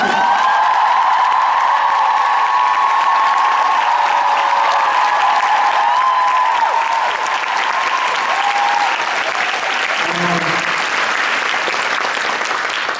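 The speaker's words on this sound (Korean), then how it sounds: "큰 박수!" Loud, sustained audience applause fills a theater after the male ensemble of the Death Note musical is introduced at a closing-performance curtain call, with a steady dense roar and a faint hint of cheering.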